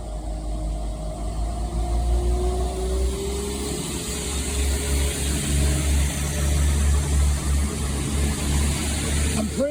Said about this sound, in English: Parting now is the 1534 West Midlands Railway service to Worcester Foregate Street.